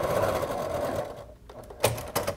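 A sewing machine stitches bias binding onto fabric, whirring close and steadily before stopping briefly, then giving two short further bursts.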